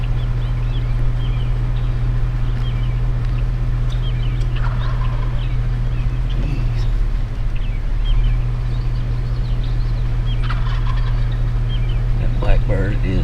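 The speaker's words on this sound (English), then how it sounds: "the other one just gobbled" A wild turkey gobbles during a spring hunt, a rattling burst heard a few times at middle distance over a steady low engine-like hum that runs the whole way through.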